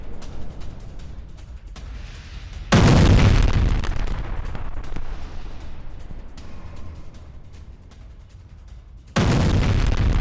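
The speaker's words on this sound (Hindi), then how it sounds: "एक और फैब 3000 गाइडेड बॉम्ब से यह अटैक और हमले में पूरी तरह तबाह यूक्रेनी सैन्य ठिकाना।" Heavy blasts from a FAB-3000 guided bomb attack on a Ukrainian military position: two loud, sudden booms with rumbling tails, separated by several seconds of lower roaring noise.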